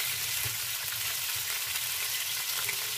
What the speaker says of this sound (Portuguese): Aqui eu tô fritando um filézinho de peixe